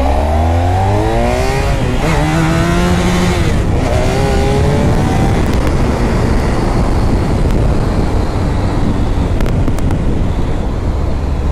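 2010 Honda VFR1200F motorcycle engine accelerating through gears on a test ride, loud and close, with rising and falling engine pitch under heavy wind rush.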